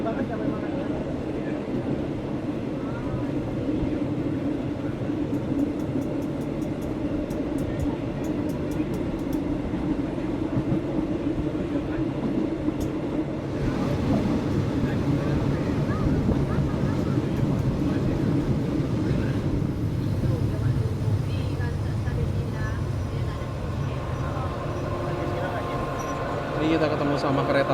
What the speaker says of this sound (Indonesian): Ini kita ketemu sama kereta lain teman-teman.